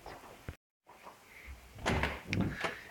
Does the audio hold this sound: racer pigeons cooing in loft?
no